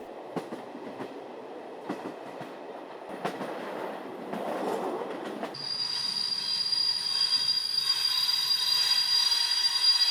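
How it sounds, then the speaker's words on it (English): A night train rolls into a deserted station with rhythmic wheel clatter, then brakes squeal in a long, high, steady screech as it slows to a stop. "a train comes into the deserted station"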